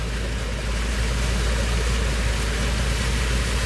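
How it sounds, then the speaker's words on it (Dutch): A car wades through deep floodwater on a street during heavy rain in Paramaribo, Suriname, producing a loud, continuous rushing roar of water mixed with low engine rumble, close and unbroken. "We waden door het water met de auto."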